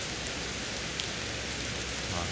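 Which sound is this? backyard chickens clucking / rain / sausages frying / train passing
rain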